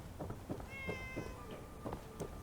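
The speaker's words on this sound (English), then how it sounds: "Quiet cat." Cat in the Fallout 4 video game, a series of short meows in a loose rhythm, moderately close and clear, with no talk over them.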